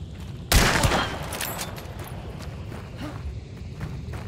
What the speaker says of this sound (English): Every fucking team is shooting at me